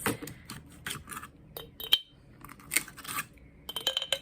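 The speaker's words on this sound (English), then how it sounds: "now I'm going to put in my ice cubes" Ice cubes drop into a thermal coffee carafe in a series of sharp clinks and rattles, some single and some in quick clusters, close and fairly faint with no talking.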